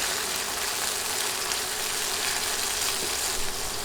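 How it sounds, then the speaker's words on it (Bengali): Boneless chicken pieces salted and frying in oil for noodles, a steady, dense sizzle that holds close and loud throughout with no talk. "লবণ দিয়ে মাংস কিছুক্ষণ তেলে ভাজবো"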